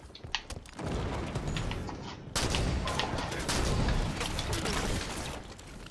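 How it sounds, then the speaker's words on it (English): Sustained assault rifle fire in Halo 5: Guardians during an arena match, a dense, continuous burst of rapid shots that starts abruptly, drops off briefly, then resumes louder and keeps going with no talk over it. "Let's see if I can get a kill with this assault rifle."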